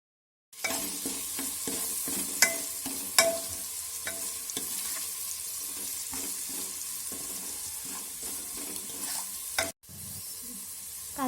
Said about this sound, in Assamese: এতিয়া এইখিনি ভালকৈ মিক্স কৰি অলপ টাইম ফ্ৰাই হ'বলৈ দিম।